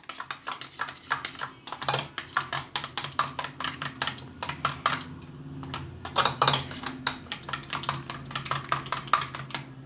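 Two eggs whisked in a bowl for an omelette, a quick run of light rhythmic clicking and tapping from the utensil against the bowl, close and fairly quiet, with no talking.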